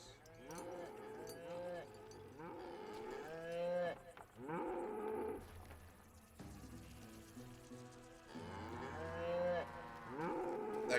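Several cows moo repeatedly in a western video game, Call of Juarez Gunslinger, the long bellowing calls rising and falling one after another over a steady background, loud and close.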